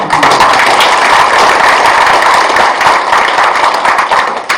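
A seated audience at a livestock cooperative's annual general meeting breaks into loud, sustained applause, dense overlapping claps filling the hall for several seconds before thinning slightly at the end.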